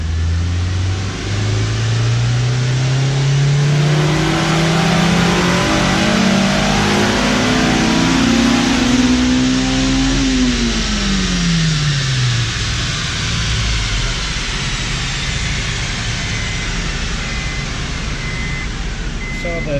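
A Honda S2000 engine revs on a dyno, climbing steadily from low rpm to a loud high-pitched wail before the throttle closes and the revs fall away, with faint speech near the start.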